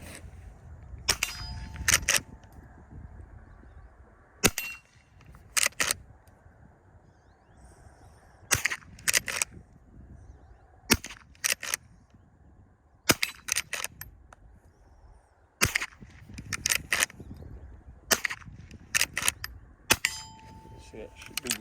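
A Marlin Model 97 rimfire rifle is fired at steel targets outdoors, with sharp cracks, each followed by a ringing metallic clang from the plate, arriving singly and in quick pairs at irregular intervals with quieter stretches between.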